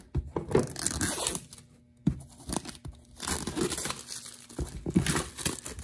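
Plastic shrink wrap being peeled and crinkled off a box of RCA wireless TV headphones, with close, bursty tearing and crackling rustles in several uneven spurts and a short pause partway through.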